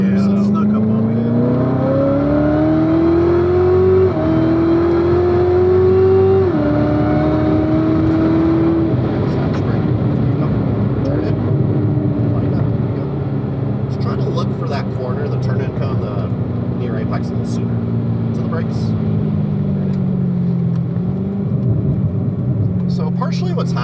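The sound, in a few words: car engine driving around a track corner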